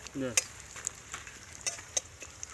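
Cumin, bay leaf and dried chilli frying in hot oil in a pan, a faint, soft crackle with a few sharp pops and light stirring scrapes, heard close but quiet.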